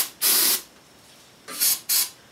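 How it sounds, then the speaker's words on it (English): Carburetor cleaner sprayed into the carburetor of an old 11 horsepower Briggs and Stratton flathead engine: one longer spray burst followed by two short close hissing squirts. "I'm just using carburetor cleaner."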